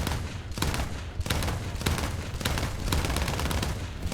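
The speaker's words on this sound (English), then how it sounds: "it's been a little while since I've shot some of these old plain cannons" Old aircraft cannons fire in the video game War Thunder, loud rapid bursts of gunfire repeating in a quick, rhythmic chatter for the whole stretch, with brief gaps between volleys.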